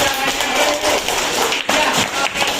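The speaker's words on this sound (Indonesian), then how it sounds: "Beri tepuk tangannya." Participants in a school coaching session clap together, a dense, loud, steady patter of hands lasting a couple of seconds with faint voices mixed in.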